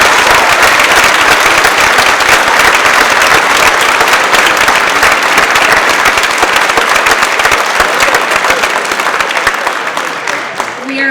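Loud, sustained audience applause fills a school's 7th and 8th grade awards ceremony, dense clapping running steadily for about eleven seconds before tapering slightly at the end.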